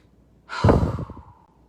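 A single deep breath, close and fairly loud: a slow, airy inhale-exhale lasting about a second that swells and then fades, with no speech.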